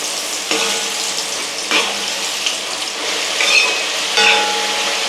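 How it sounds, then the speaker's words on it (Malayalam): French fries frying in hot oil on a high flame, giving a steady, dense sizzle with a few brief louder bursts of crackling. "നന്നായിട്ട് എണ്ണ ചൂടായി വന്നിട്ട് നമ്മളിത് രണ്ടാമതും ഇതിലേക്ക് ഇട്ട് കൊടുക്കുകയാണ് കേട്ടോ."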